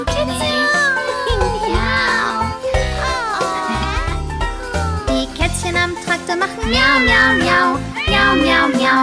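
Repeated high, sliding meows over a bouncy musical backing, sung in German in a childlike way as a playful imitation of a kitten in a farm children's song.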